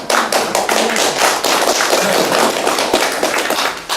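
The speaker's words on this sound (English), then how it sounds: "Give him an applause because he's right on target" Audience applause in a hall after a call to honor someone, dense continuous clapping with scattered sharp hand taps, steady and fairly loud for about four seconds.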